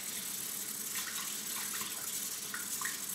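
Shaving brush with a synthetic knot dipped and swished in fresh water, a steady close splashing wash with faint dripping and sloshing throughout, no talking.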